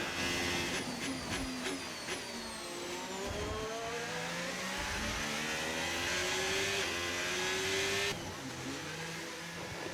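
A race car engine in a sim racing game revs hard and climbs through its gears, its rising whine near and loud. Several quick downshift blips come early, then it pulls on in long rising sweeps.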